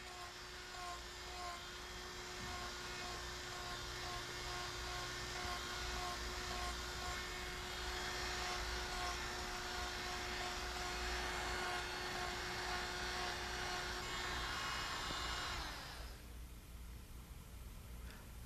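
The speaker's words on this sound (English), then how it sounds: "This die grinder is most commonly used in the metalworking trades." A die grinder fitted with a special wood-cutting bit whines steadily as it cuts into wood, a loud continuous high-pitched motor drone with grinding noise that holds for about fifteen seconds before cutting off and fading.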